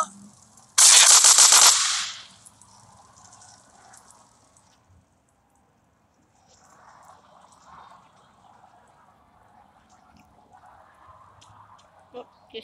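Minigun fire in GTA San Andreas: a loud, dense burst of rapid gunfire lasting about a second near the start, followed by quieter game ambience and occasional faint talk.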